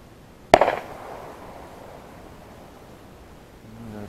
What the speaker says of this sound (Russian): Это рядом стреляет уже.